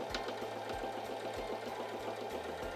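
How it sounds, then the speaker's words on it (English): Singer Simple 3337 sewing machine running a straight stitch, giving a steady rapid mechanical chatter of needle strokes close by with no talking. "I'm going to release the lever and then continue sewing my straight stitch."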